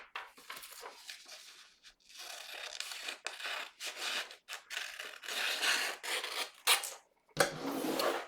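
Scissors or a blade cutting through sunhat pattern pieces, a long run of close, rasping cuts and paper rustles in bursts with brief pauses, no voices.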